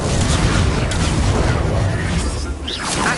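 An Incendio fire spell goes off in Hogwarts Legacy as a loud, dense burst of fiery roar and crackle, with booming impacts and layered game effects filling the whole moment.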